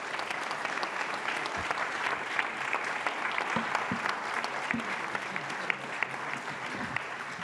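Steady audience applause fills a conference hall after a talk on democratic crisis, a dense continuous patter of clapping hands from a seated crowd lasting throughout, with no speech over it.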